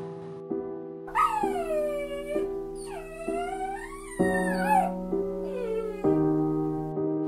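A puppy whimpers and whines in rising and falling cries over a steady musical backing.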